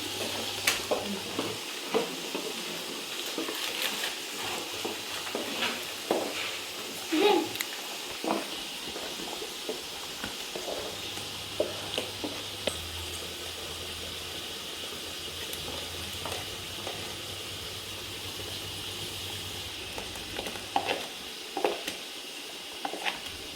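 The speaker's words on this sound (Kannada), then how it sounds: "ಹಾಗೆ ಒಗ್ಗರಣೆ ರೆಡಿ ಆಗ್ತಿದೆ." Tempering for sambar crackling and sizzling in a pan, with stirring scrapes and clinks scattered through a steady frying hiss; close and moderately loud, with no speech.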